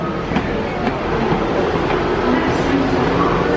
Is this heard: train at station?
yes